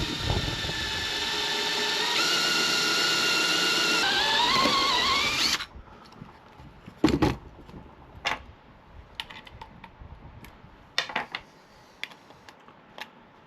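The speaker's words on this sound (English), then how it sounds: "Then I'm going to use my step drill to drill the hole itself." A power drill with a step bit whines steadily for about five seconds, its pitch climbing as it bites through material, then stops, leaving scattered clicks and taps.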